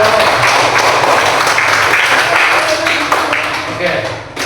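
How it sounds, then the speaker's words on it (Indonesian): A classroom of students gives a dense round of applause for a group, a sustained wash of clapping that tapers slightly toward the end. "Beri aplaus untuk kelompok 1."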